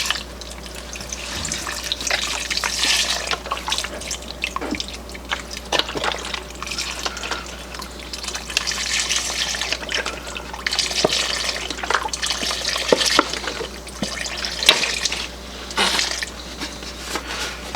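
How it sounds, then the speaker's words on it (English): Vegetable broth pours steadily into a soup pot of bean soup, a continuous splashing, gurgling liquid stream with small drips and sloshes, fairly close and unbroken for the whole stretch, with no voices. "I've got another container of vegetable broth. Okay, so I'm going to go ahead and add that into it."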